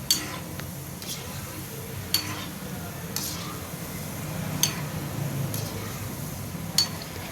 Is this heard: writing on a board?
no